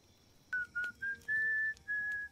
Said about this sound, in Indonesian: Tak lama terdengar kode siulan dari Ozama